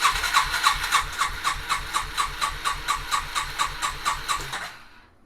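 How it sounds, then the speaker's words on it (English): A Yamaha Bear Tracker 250cc ATV engine cranks over with the throttle held wide open, turning in a fast, even rhythmic chug with a hissy edge for about five seconds before stopping, close and loud. "Okay, I'm going to turn the key on, open the throttle all the way up, and we'll crank her over."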